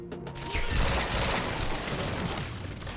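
Sustained rapid gunfire from a weapon in the video game Quantum Break, a dense unbroken stream of shots filling the whole moment, loud and close.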